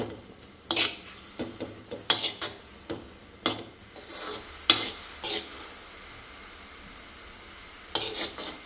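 Radish frying in ghee in a pan, with intermittent stirring and scraping strokes, a faint steady sizzle underneath and occasional spoon clinks against the pan.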